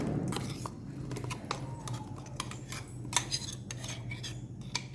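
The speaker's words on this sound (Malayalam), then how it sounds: "നമുക്ക് ഇത് നന്നായി ഒന്ന് മിക്സ് ചെയ്ത് കൊടുക്കാം." A metal spoon stirs blended mango into thickened milk for mango ice cream. Quiet clinks and taps against the vessel repeat irregularly over a soft, steady background.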